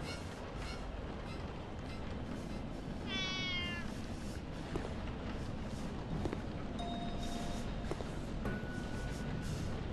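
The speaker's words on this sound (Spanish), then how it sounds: "Sabes que mis gatos no te dejarán en paz, ¿verdad?" Cats meowing in the horror video game The Dark Internet: one clear drawn-out meow over a steady dark ambient drone, with a few faint tones afterward.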